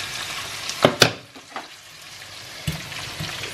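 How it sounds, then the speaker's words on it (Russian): Salmon sizzles in a frying pan with steady crackling, broken by a couple of sharper clatters and stirring sounds from the pan. "здесь у меня жарится лосось."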